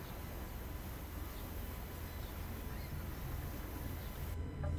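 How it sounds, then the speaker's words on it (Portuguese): Port ambience in the Euro Truck Simulator 2 video game, set at a Greek harbor, with a steady broad wash of wind, water and machinery noise at a constant level. "Vocês podem ouvir aí o porto,"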